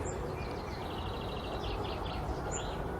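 A goldfinch sings in trees on an allotment plot, a faint, thin twittering phrase heard at a distance over a steady outdoor background hum.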